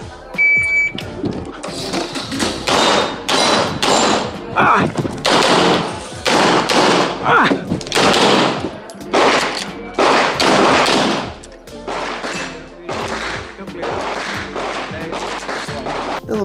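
A CZ Shadow 2 pistol with a Trijicon SRO sight fires on a competition shooting stage of steel targets and boards. Loud, sharp shots ring out in quick bursts and strings, pausing briefly and echoing outdoors.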